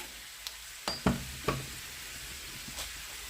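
Potatoes fry in a pan with a steady, faint sizzle. A few sharp knocks and scrapes from stirring stand out above it. No one speaks.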